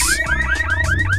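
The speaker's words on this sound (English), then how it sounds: "Car alarm." A car alarm in the video game Bomberman Hero wails in a rapid repeating cycle, about five rising electronic sweeps in just over a second, loud and steady with no talk over it.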